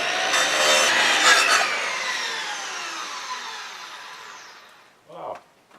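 A small Porter Cable circular saw cuts into 2.5 inch porch timber with a loud, rising whine that then winds down and fades. A brief voice follows at the end.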